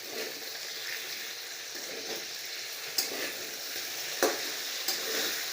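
Potatoes stir-fry in a pan for a dry potato dish, giving a continuous sizzle with a few sharp scraping clicks as they are turned, no voices over it.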